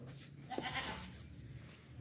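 A faint, distant bleat comes from a long-eared, well-kept pedigree male goat at a livestock sale, a single call against quiet background noise.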